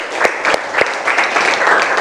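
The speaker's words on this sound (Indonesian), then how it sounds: "kita kasih tepuk tangan dulu untuk belajar kita hari ini" A classroom of students applauding together, brisk continuous clapping at close range with a few sharper individual claps standing out.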